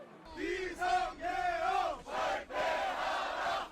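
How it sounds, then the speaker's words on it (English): Large crowd chants in loud, rhythmic unison outside South Korea's National Assembly during a martial law protest, repeated shouted phrases rising and falling in waves. "As crowds chant"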